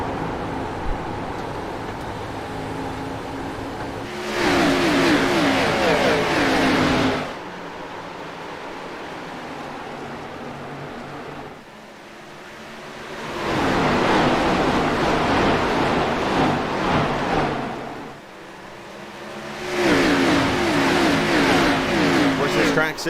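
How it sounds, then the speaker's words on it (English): ARCA Series stock race cars roar past in loud recurring waves at Bristol, engines swelling and fading as each pack passes, with quieter stretches of distant engine noise between. "when these cars are out here racing, they say it sounds like thunder"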